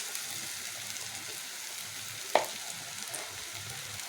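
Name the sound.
pakoras frying in hot oil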